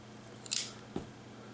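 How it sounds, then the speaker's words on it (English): The small scissors of a Gerber Lockdown Pry multitool are worked open and shut. Two crisp, quiet metallic snips come half a second apart, up close in a silent room. "the scissors, they seem like they work okay. They stick a little, especially folding them over like that."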